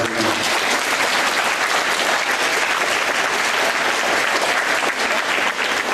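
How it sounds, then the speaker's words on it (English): Loud, dense applause from a school assembly audience at a senior high school, a steady wash of many hands clapping continuously throughout with a faint crowd murmur. "Round of applause."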